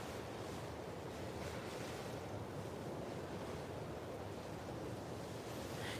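Sea waves wash onto a beach in the Marshall Islands, a steady broad surf roar mixed with wind noise on the microphone, continuous and fairly faint with no voices.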